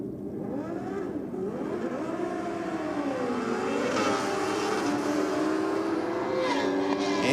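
Drag race cars roar off the line at a track championship, a continuous loud engine drone with rising and falling revving tones that builds slightly in volume as the cars pull away.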